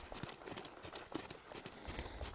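Horse hooves stepping on ground while working cattle, soft irregular clip-clop thuds, faint and close, with no talk.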